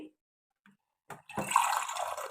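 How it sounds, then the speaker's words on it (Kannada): After a brief quiet pause, filtered drinking water is poured into a bowl of herbal hair dye powder nearby, a steady splashing trickle lasting about a second. "ಇದಕ್ಕೆ ನೀರು ಹಾಕ್ಕೊಂಡು ಕಲಿಸ್ಕೊಡ್ತೀನಿ"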